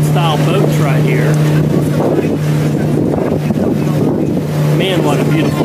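A steady low riverboat engine hum drones throughout while cruising the Sassagoula River at Walt Disney World, joined by wind rumble and people talking nearby.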